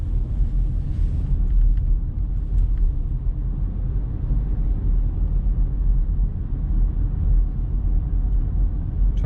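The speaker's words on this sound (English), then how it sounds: "Fairly busy road, as you can see, the queue of cars crossing here" Busy road traffic rumbles steadily as a queue of cars passes nearby, a continuous low wash of tyre and engine noise with no talking.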